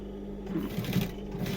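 A sewing machine runs a steady, close mechanical whir while stitching over an existing seam on a denim jeans leg, with a slight surge in pace partway through.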